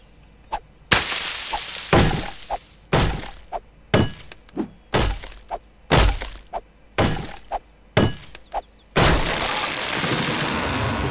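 In 7 Days To Die, a fire axe strikes repeatedly at objects, giving roughly a dozen heavy thunks and breaking impacts at a steady rhythm, loud and close, ending in a longer crashing burst.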